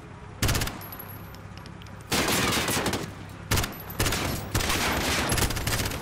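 Gunfire in Call of Duty Modern Warfare, several bursts of loud rapid shots separated by short pauses over a steady background hum.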